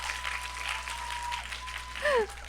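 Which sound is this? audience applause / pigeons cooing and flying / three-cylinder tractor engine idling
audience applause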